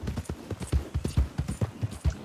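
Horse hooves clip-clop in a steady, close rhythm in the video game Red Dead Redemption, a brisk even gait of sharp thuds with no voices over it.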